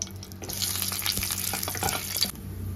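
Dried red chillies, a bay leaf, whole garam masala and cumin sizzling in hot mustard oil in a pan, stirred, with steady close frying crackle and scraping throughout, no talk.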